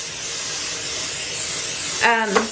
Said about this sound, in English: I'm going to spray them with Pam